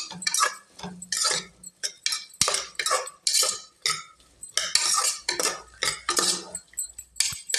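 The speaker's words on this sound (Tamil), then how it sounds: "ஒரு உருளைக்கிழங்கும் காலிஃப்ளவரும் வந்து கலந்துருக்கேன் போட்டு நல்லா கிளறிக்கலாம்" A spoon stirs potato and cauliflower in a metal cooking pot for a vegetable biryani, giving a steady run of close, rhythmic clanks and scrapes that repeat many times without a pause.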